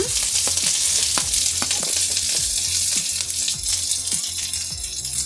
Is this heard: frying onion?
yes